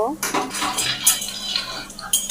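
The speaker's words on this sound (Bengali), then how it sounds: "মুগ ডালটা দিয়ে ভালো করে এবার নেড়ে চেড়ে নেব" A spoon scrapes and clinks against a metal pot in quick repeated strokes, stirring mung dal, close and fairly loud.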